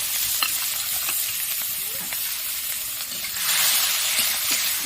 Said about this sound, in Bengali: তেলটা গরম হয়ে গেছে, আমি একটু পাঁচফোড়ন দিয়ে দিলাম। আমি কেটে রাখা পেঁয়াজ কুচিটা দিয়ে দিলাম।